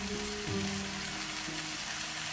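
Tomatoes dropped into garlic-ginger paste in a hot pan set up a steady, close sizzle and fry, with a few faint stirring scrapes, and no voices over it.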